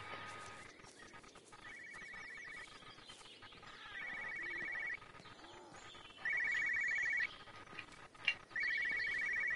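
Telephone ringing in the video game Everybody's Gone to the Rapture, four steady electronic ring bursts at regular intervals, moderately loud over a quiet ambient background with birdsong.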